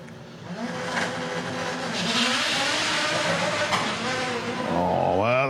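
A drag racing car launches down the strip at a drag racing meet, its engine roaring loud and near, the tyres spinning and fighting for grip, and the pitch climbs sharply toward the end.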